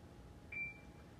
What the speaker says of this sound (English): You tell it label, it'll beep.